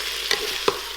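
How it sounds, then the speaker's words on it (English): Beef browning in a pressure cooker, a continuous close sizzle with two sharp scraping or stirring knocks breaking through, no talking. "just brown the beef until it's brown on all sides"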